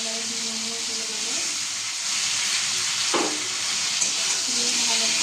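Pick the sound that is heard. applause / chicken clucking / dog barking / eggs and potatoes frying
eggs and potatoes frying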